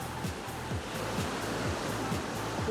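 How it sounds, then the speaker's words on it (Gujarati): Sea waves break on a resort beach in Goa, a continuous, fairly close wash of surf that swells slightly toward the end, with no one talking. "દરિયાની લહેરો"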